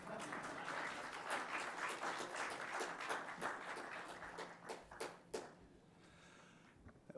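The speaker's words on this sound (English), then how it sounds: "I think the clapping should go on." Audience applause at a policy summit, a dense wash of clapping that carries for about five seconds, then thins into a few scattered claps and fades toward quiet.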